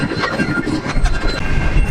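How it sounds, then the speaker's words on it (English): A train rolls past a road crossing as the gates close, making a loud, close, continuous rumble with steady clattering from the wheels on the rails. "Gates closing. That means there's a train coming."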